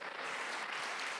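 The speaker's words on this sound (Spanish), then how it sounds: "Denle un fuerte aplauso al Señor" Congregation applause during a church service: a dense, steady wash of many hands clapping at once, fairly loud and sustained through the short stretch without a break.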